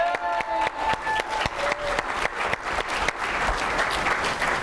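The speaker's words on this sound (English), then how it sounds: "Give Jane a round of applause" An audience at a Seacret University pay-plan training session gives a round of applause, with sharp claps rolling into a steady, moderately loud patter that lasts several seconds.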